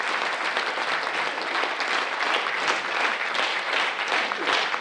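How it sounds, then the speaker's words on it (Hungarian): Sustained applause from a sizable crowd, dense steady clapping that fills the whole stretch without pause, loud and close. "egy nagy-nagy tapsot kérek önöktől maguknak"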